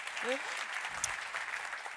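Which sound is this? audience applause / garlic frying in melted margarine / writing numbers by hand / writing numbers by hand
audience applause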